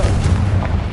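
In the video game Hogwarts Legacy, a Confringo spell sets off an explosion: one loud, muffled, booming blast that fills the whole short moment.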